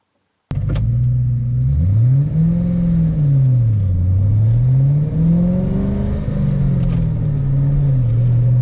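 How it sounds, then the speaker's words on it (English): Straight-piped SN95 Ford Mustang SVT Cobra engine heard from inside the cabin, a loud deep rumbling drone that rises and falls through several rev swells, steady and unbroken with no talking. "This car, as I mentioned, is straight piped, and it just makes a tremendous amount of noise."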